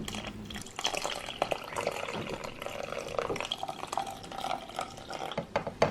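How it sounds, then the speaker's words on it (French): 250 ml of water goes into a blender, a close splashing, trickling pour with some dripping and sloshing that runs steadily for several seconds, with no speech. "Ajoutez ensuite 250 ml d'eau."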